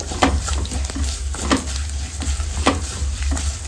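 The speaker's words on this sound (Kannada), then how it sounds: "ಒಂದು ಚಮಚದಷ್ಟು ಜೀರಿಗೆ ಸೇರಿಸ್ಕೊಳ್ಳೋಣ ಒಂದು ನಿಮಿಷ ಫ್ರೈ ಮಾಡ್ಕೊಳ್ಳೋಣ" Cumin seeds and ajwain fry in a pan for fish curry, a soft crackling sizzle punctuated by a few regular scraping stirs of a spoon against the pan, close and moderately loud.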